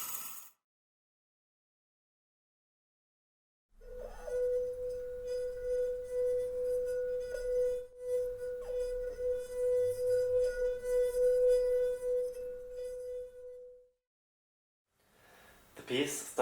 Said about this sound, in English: This piece actually requires an echo tone in the background, which is a long B tone.